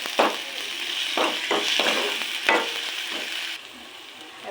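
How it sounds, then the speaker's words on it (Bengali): Onion and garlic paste frying in a pan for a dried-fish chili dish, a continuous close sizzle broken by several scraping stir strokes, then quieter toward the end. "এগুলোকে আরো ভালো করে ভেজে নেব।"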